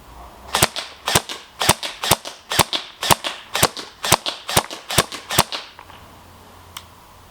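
An upgraded Ares Amoeba AM-013/014 airsoft rifle fires a rapid, steady string of about a dozen sharp snapping shots at even spacing, close and loud, then the sound trails into quiet background noise.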